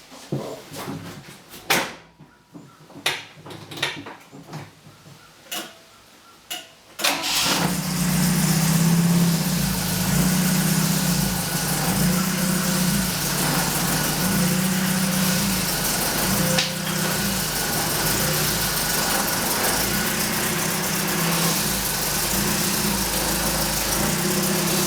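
Saab Sonett with a refilled transaxle, its engine starting after some clunks and handling noises, then running loud and steady with a low rumbling drone while the car drives.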